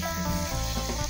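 Pla ra paste with finely pounded chili seasoning being dry-roasted and stirred in a pan, a steady close sizzle with scraping stir sounds throughout, no voices.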